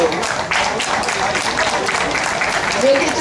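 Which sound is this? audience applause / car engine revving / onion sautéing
audience applause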